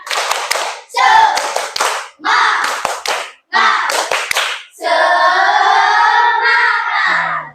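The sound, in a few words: class of children doing a rhythmic spirit clap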